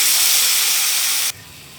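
Loud, close hiss of vegetables hitting a hot pan while cooking beans with dried fish, a dense sizzle that cuts off abruptly near the end, leaving a quiet room.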